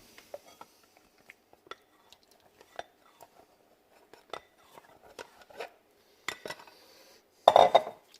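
A utensil scrapes and taps against a bowl while melted butter is stirred into chocolate and cream for Christmas truffles, with sparse soft clinks that grow busier and louder toward the end, close by.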